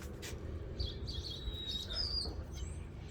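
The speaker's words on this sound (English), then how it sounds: "I hear you, birds." Faint bird chirps and a thin twittering call rise over a low background rumble, somewhat distant.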